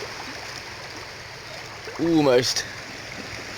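Sea waves wash steadily over the shore below the Beachy Head chalk cliffs near a camera tripod, a continuous close rushing of water, with a brief spoken word partway through.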